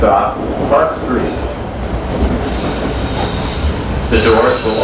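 Boston subway train arriving at Park Street with loud metallic wheel squeal, sustained high tones over continuous rail rumble and rattling, close and steady throughout, with an announcement voice partly under the noise.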